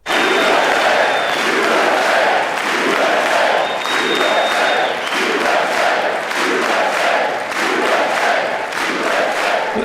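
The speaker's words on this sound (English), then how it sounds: "this is the sound of the audience responding after the president was heckled." A large audience at a State of the Union address reacts loudly after the president is heckled, with rhythmic, chant-like shouting and cheering in repeating waves, dense and sustained throughout.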